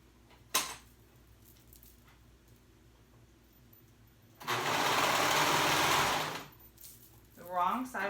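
A sewing machine stitching a loop onto a swimsuit, one loud steady burst of about two seconds after a sharp click, with a voice briefly afterward.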